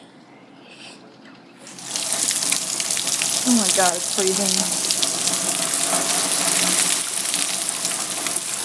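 Heavy rain pours down outside, a loud, steady broadband hiss that starts abruptly and continues, while a person briefly speaks over it.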